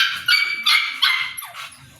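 Labrador puppies bark at a pet market, a run of high, yappy barks in quick succession, close and loud, with a short whimpering yip near the end.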